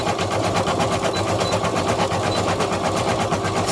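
An embroidery machine stitching a fabric face mask design, running with a fast, steady mechanical rattle of needle strokes that is loud and close and continues without pause.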